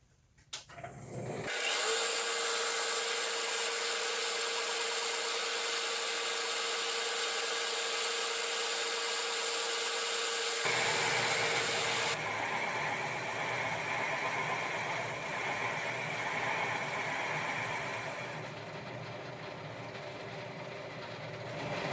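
A lathe drives a high-speed steel boring bar through a casting, giving a loud, sustained metallic cutting whine with a steady rumble that changes tone partway through and runs on without speech.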